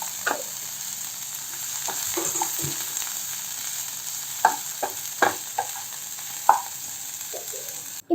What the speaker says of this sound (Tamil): இப்போ இதையே அப்படியே வதக்கிக்கலாம்.